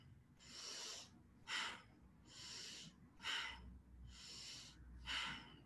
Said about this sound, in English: Nice strong breaths, complete exhales.